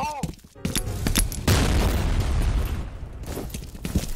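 A grenade detonates during online multiplayer play of FEAR Combat, a loud booming blast with a sustained rumbling tail, while a player's voice talks before and after it.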